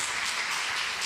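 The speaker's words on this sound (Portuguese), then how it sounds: "Eu quero que você aplaude o Senhor pela vida dela." Applause from a church audience, a steady broadband wash of many hands clapping throughout the short moment, fairly loud with no talk over it.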